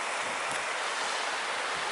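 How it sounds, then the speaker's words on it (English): A waterfall cascading down a hillside on the Cape Wrath Trail in the Scottish Highlands roars as a steady, dense, broadband rush of falling water, close and continuous with no voices. "Let's just have a look at those falls behind me, cascading"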